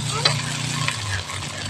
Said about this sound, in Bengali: এখন আমি জিরে বাটা, ধনে বাটা আর লঙ্কা বাটা দিয়ে দিলাম। ভালো করে কষিয়ে নেব।